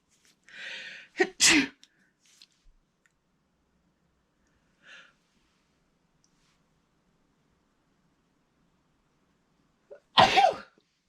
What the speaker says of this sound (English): I apologize now. I'm going to sneeze.